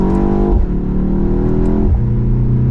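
A 2024 BMW X2 M35i with a 7-speed dual-clutch accelerates hard in second gear, its exhaust loud and near, climbing in pitch with two quick shift dips and a throaty gurgle.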